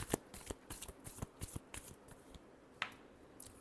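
Tarot cards are shuffled close by, a quiet series of quick riffling flutters and soft snaps in a rapid rhythm.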